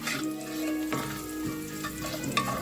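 Garlic sizzling steadily in a pan over medium-high heat while rib eye steak is pan seared, a continuous close frying crackle with occasional stirring clatter and no talk.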